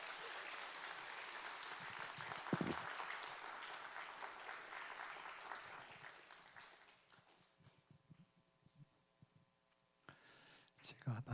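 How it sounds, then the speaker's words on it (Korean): A church congregation at a Sunday worship service applauds, a broad wash of clapping for several seconds that thins and fades, followed by quieter room sounds and a brief burst of noise at the end. "나오실 때 우리 큰 박수로 축복하겠습니다."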